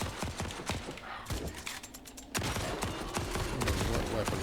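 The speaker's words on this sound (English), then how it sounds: "This hand cannon's pretty decent." A hand cannon fires in Trident's Wake, a string of sharp, repeated shots cracking over a busy, noisy mix.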